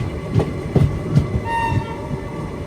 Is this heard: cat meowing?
no